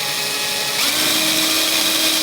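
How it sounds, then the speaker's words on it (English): A power drill with a 1/16 inch bit starts a pilot hole during an APR wing install on a Honda S2000, whining steadily up close and rising in pitch as the speed increases. "Start off very slow so you don't get drill walk"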